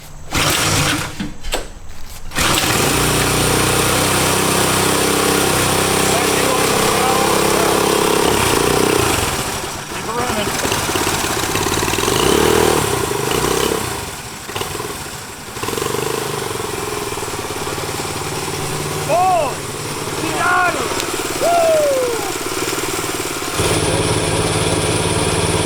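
A turbocharged engine in a five-speed Corvette go kart cranks and then runs with a loud, steady mechanical drone, rising and falling, with occasional whistling turbo whine near the end.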